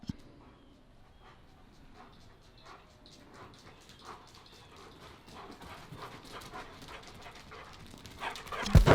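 A German Shepherd whimpers softly and pants in quick breaths after a long car ride, with faint high whines building toward a louder burst at the end.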